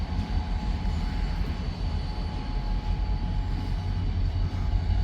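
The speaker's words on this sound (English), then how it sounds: "It's just 2 locomotives." Two freight train locomotives running light together, a steady low diesel rumble with rail noise holding at an even level throughout, fairly close and with no voices.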